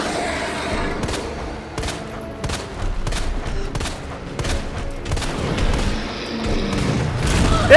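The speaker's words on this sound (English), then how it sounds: "Hey, grenade!" Repeated grenade blasts and heavy gunfire in the video game Resident Evil 2, a steady run of loud booming bursts with sharp broadband cracks spaced roughly every half second, no speech.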